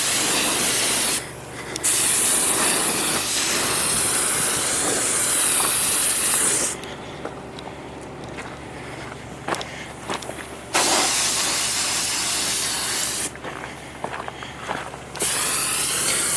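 Rust-Oleum 2K paint hissing from a spray gun onto a rake in bursts, steady loud spraying that stops and restarts several times with brief pauses between passes.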